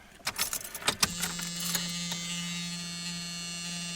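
Keys jingle in the ignition of a 1980s AMC car, then turning the key on brings up a steady electrical hum that carries on unbroken, close by and fairly quiet.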